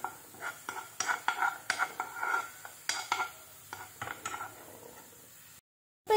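Green chilli and garlic are stirred in coconut oil with a utensil, giving quick scraping, clinking strokes over a light sizzle. The sound stops abruptly near the end.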